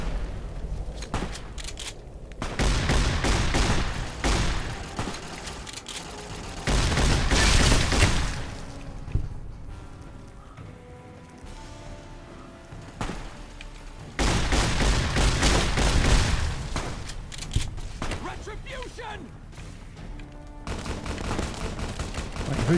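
Gunfire in the video game Fallout New Vegas: repeated heavy volleys of shots and blasts in several loud bursts separated by quieter stretches, close and dense.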